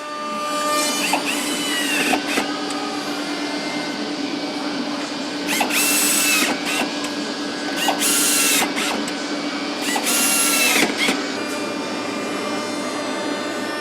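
Screws driven into a laminated wood wardrobe carcass during glued-and-screwed assembly in a furniture workshop, heard as repeated short bursts of a power driver whirring, a few seconds apart, over steady workshop noise.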